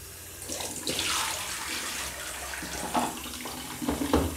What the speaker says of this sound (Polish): Płuczemy kilkakrotnie, wymieniając wodę, tak żeby wypłukać cały wywoływacz.